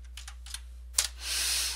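Password keys tapped on a computer keyboard as a few faint, quick clicks, followed by a slightly louder soft rushing noise.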